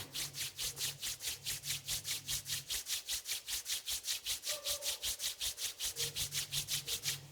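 Palms rubbed briskly together in a quiet room, a close, even swishing back and forth about four strokes per second for several seconds, with a faint hum underneath.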